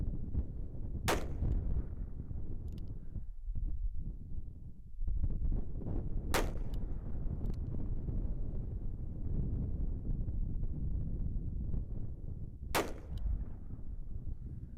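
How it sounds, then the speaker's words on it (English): .357 Magnum revolver shots fired at 100 yards ring out as three sharp, distant cracks spaced several seconds apart over a constant roar of strong wind buffeting the microphone. "here's the 100-yard shooting anyway"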